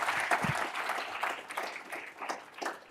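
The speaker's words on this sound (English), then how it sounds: "Oh, okay, we'll clap." A debate audience at a student symposium gives a brief round of scattered clapping that rises and fades unevenly over a few seconds, moderately loud and fairly close.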